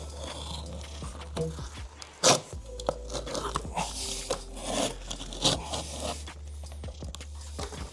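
Knife or snips cutting an asphalt roofing shingle around pipe flashing outdoors: irregular crunching, scraping cuts up close, with one sharp louder snap, over a steady low hum.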